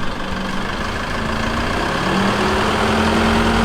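A car engine idles steadily with its speed slightly raised by a throttle controller in winch mode, a continuous low hum that grows a little stronger toward the end, with no voices.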